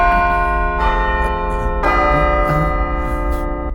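A church bell tolls repeatedly at midnight, several resonant strokes ringing out with long, humming overtones that overlap one another over a steady low background hum.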